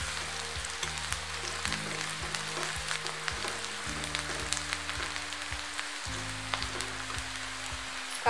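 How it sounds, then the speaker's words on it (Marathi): Onions fry in a pan for a radish pod bhaji, a continuous close crackling sizzle with faint pops and no talk. "कांद्याचा कलर बदलूसपर्यंत भाजायचं"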